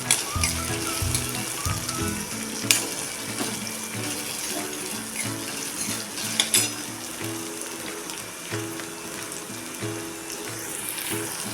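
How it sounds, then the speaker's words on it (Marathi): Tomatoes sautéing with onions in a pan while a cucumber dish is being cooked, giving a steady close sizzle and bubbling hiss throughout, with occasional clinks and knocks from stirring. "त्यामध्ये टाकूया हा टोमॅटो टोमॅटो पण आपण थोडा वेळ परतून घ्यायचा आहे"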